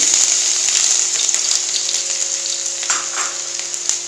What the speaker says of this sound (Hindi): घी हमारा गर्म हो गया है, अब इसमें डालेंगे 1 टेबलस्पून भर के बिल्कुल अदरक लहसुन का पेस्ट